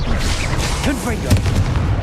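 A Confringo blasting spell explodes in Hogwarts Legacy, a booming burst near the middle of a loud, busy game mix, with spoken voices and spell-casting sounds around it.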